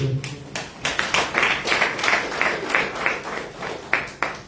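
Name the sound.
audience applauding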